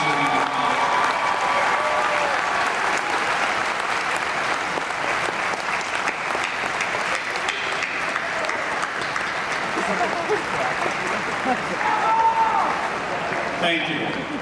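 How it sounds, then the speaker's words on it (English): Sustained applause from a large crowd at a graduation ceremony, dense steady clapping lasting throughout with no pauses. "give a very warm round of applause to these two important groups"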